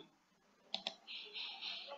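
Two quick, faint mouse clicks on a computer, close together, followed by a soft steady hiss with no talking.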